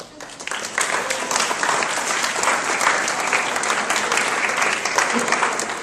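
An audience of middle school band students and others applauds a guest instructor, Ms. Lipton, after a session; strong, sustained applause rising quickly and holding evenly to the end.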